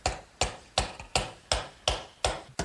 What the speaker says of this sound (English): It's going to be a little snug, so I'm going to use a mallet to...